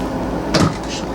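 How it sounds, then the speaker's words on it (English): A medicine cabinet door in the bathroom of a 2018 Tuscany 45 AT RV opens or closes with one short, close knock in the middle of a quiet moment, with faint background noise. "And of course you will have functional medicine cabinets behind here."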